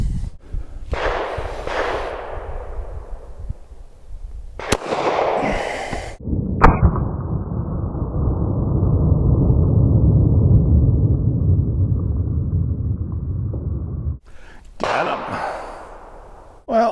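A Beretta Model 1934 .380 pistol is fired at bottles, giving a couple of sharp, sudden cracks. Longer stretches of low rumbling noise fall between bursts of a person talking.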